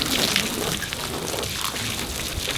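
Steady hiss of water from a hose spraying onto a truck bed tonneau cover on a Silverado or GMC Sierra, a dense rain-like wash that stays close and even throughout.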